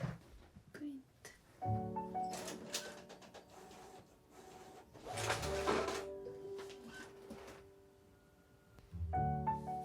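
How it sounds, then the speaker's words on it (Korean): An inkjet-style printer prints a photo onto label paper sent from an iPad, with a steady mechanical whir and repeated feed movements and tonal motor hums, moderately close, broken by brief pauses and soft rustling. "이게 아이패드에서 프린터로 바로 프린트 되더라고요."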